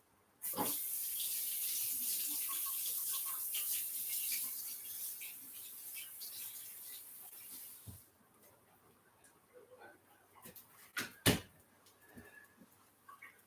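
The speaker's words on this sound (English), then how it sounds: "So I already gave them a pre-rinse, but I'll rinse them again" Tap water runs steadily over garden peppers being rinsed in a sink, a close hiss for about seven seconds before it shuts off, leaving quieter handling clatter and a few soft knocks.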